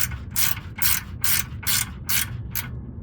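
A ratchet wrench tightens 12 mm starter bolts on a 1999 Acura RL, giving six evenly spaced bursts of close, crisp clicking with short gaps between strokes.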